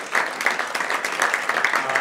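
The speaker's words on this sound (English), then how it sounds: "can we get a round of applause for all the organizers for putting this on?" An audience at a Ruby programming talk claps for the event organizers in a moderately loud round of applause with individual claps standing out in a loose, uneven rhythm. There is no talking.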